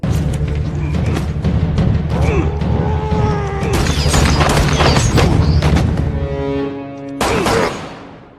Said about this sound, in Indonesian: Kemudian mereka berdua terlibat baku tembak